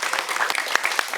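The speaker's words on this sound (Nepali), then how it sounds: "उहाँलाई जोरदार ताली दिनु" Brisk, dense audience applause at a stage event, steady and close throughout the short burst, with a few sharper claps standing out.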